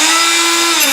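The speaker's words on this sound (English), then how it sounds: "Instead of sawing, all you gotta do is hit it with a power tool." Power tool grinding out tile grout, a loud, steady high-pitched whine running continuously up close.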